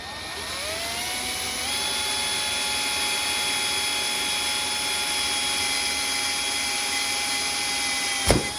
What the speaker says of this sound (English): I'm gonna drill a pilot hole